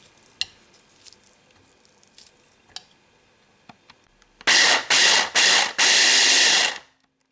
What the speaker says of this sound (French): je vais venir directement le hacher dans un hachoir